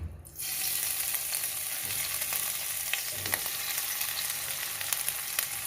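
Coconut oil sizzles in a pan while Malabar chicken is being prepared. A quiet start jumps into a steady, close frying hiss with light crackles and pops that carries on to the end.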